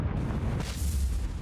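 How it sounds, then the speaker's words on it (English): Heavy, rumbling explosions at sea in a naval war video game boom close by, one blast rolling into the next in a dense burst of low roaring noise. "Yeah, there's definitely some explosions."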